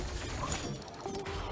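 A weapon reloads in the video game Atomic Heart, with quiet mechanical clicks and ratcheting parts sliding into place under low background game sound.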